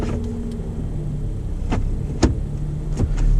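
A car with a six-speed automatic transmission cold-starts in snow, a steady engine idle rumbling close by with a few sharp clicks and knocks over it.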